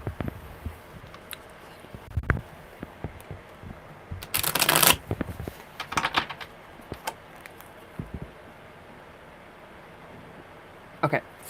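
Tarot cards are shuffled nearby in a few short riffling bursts, the loudest in the middle, over a low background hum with brief handling clicks.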